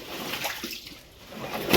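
Grain being washed by hand in water, with soft sloshing and splashing close by, a brief lull in the middle and a louder splash at the end.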